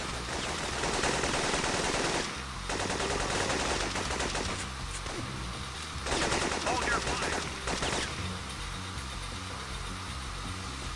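Enemy gunfire in the PS1 game Syphon Filter on a Georgia street comes as loud rapid automatic bursts in several stretches, with an engine-like hum between them.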